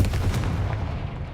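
Confringo blast spell in Hogwarts Legacy on PS5, heard as a short burst of booming, crackling impact noise lasting about a second with no pause.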